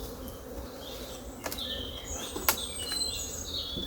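Honeybees hum steadily around an open hive during a spring honey harvest, a close, continuous buzz with faint bird chirps in the background.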